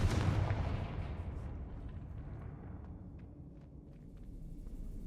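A Confringo spell explosion in the video game Hogwarts Legacy opens with a loud booming blast that rumbles and decays over several seconds, with a few faint crackles trailing off.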